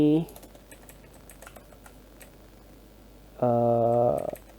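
Soft, close keystrokes from typing Python code on a computer keyboard patter steadily, with a voice speaking briefly at the start and again near the end.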